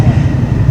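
Low, rumbling rolling noise from inside a Swiss passenger train in motion, loud and continuous with a faint rhythmic pulse over the short stretch.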